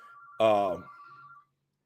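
A phone rings once with a short electronic tone that swells briefly and then trails away, heard close and fairly quiet against silence.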